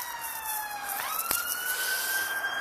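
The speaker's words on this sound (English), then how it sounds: "it's just an ambulance coming this way" An ambulance siren wails in a rising, steady tone over constant street noise, with a sharp brief knock midway as the siren pitch lifts.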